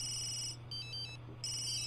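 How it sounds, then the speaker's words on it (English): A phone rings in The Sims 3 video game, two bursts of bright electronic trilling tones separated by a short different chime, loud and clear over a low steady background hum. "answer your phone"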